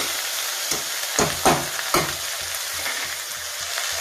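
Ivy gourd (tindora) fries in a pan with a steady hiss while a spatula scrapes and stirs it, producing several sharp scraping knocks over the continuous sizzle.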